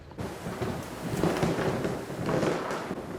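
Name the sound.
drizzling rain on an afternoon street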